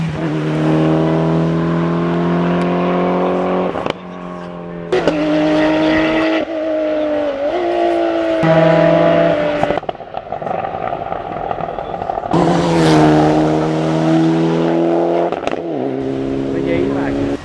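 A race car climbs the Falperra hill climb course in a European championship round in 2014. The engine sounds loud and near, revving hard through repeated gear changes with rising and falling pitch and a few quick lifts between pulls.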